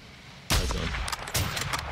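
Gunfire in the Call of Duty Modern Warfare 2 (2022) video game: two loud, close booming shots about a second apart, each with a rolling tail, heard alone without talk.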